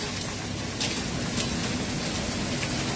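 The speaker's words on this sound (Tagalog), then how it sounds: "Lakas ng ulan." Heavy rain pours down steadily, a dense, unbroken hiss filling the whole stretch, loud and close, with no talking over it.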